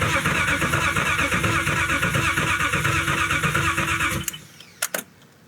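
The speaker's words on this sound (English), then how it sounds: "To give this thing its first couple of cranks." Boosted BMW E36 engine cranking over on its first start, a steady loud mechanical churn for about four seconds that cuts off, followed by a couple of brief clicks near the microphone.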